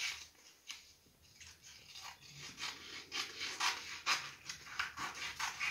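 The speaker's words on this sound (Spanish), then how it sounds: "Y de esta revista vamos a cortar." Scissors cutting through a magazine, giving a dry papery rasping and snipping that comes in repeated strokes, close and moderately loud, growing busier toward the end.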